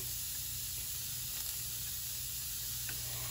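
Chopped garlic, about two tablespoons, sizzles steadily in a hot pan for curry fried rice alongside lobster tail, a constant close hiss of frying with faint clinks and no voices.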